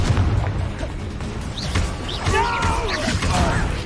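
Confringo blasting spell from Hogwarts Legacy, a burst of booming impacts and crackling debris amid game combat clatter, moderately loud, with voices shouting nearby.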